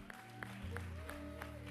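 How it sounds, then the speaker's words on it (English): Congregation clapping during a Mother's Day church service, steady rhythmic claps over sustained organ-like tones and a low background hum. "Clap her, man, clap her."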